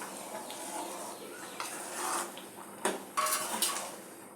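Drumstick sambar being stirred in a cooking pot, a faint soft scraping and sloshing followed by a few sharper metallic clinks of spoon against the pot near the end.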